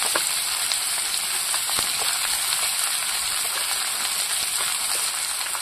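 Potatoes frying in hot oil, with a steady, dense crackling sizzle that holds at an even, close level the whole time and has no talk over it.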